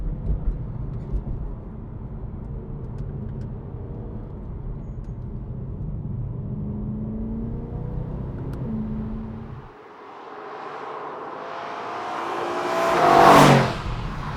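A BMW E92 M3 GTS drones steadily through its titanium exhaust, briefly drops away, then swells into a loud, rising rev that peaks near the end as it passes close by.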